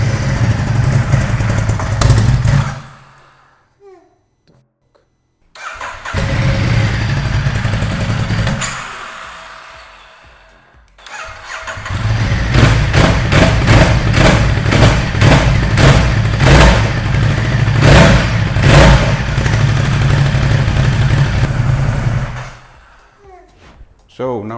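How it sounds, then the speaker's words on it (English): A Ducati XDiavel motorcycle engine being rebuilt from a wreck cranks and turns over, loud and close, then runs roughly in a sustained burst with rhythmic pulsing, broken by pauses and brief clunks. "So now we know that the engine is kind of running, turning at least."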